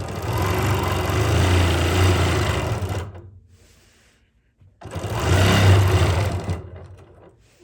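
A sewing machine runs in two bursts, each about three seconds long and separated by a brief pause, as it stitches a small white piece on a quilt block, whirring close and steady.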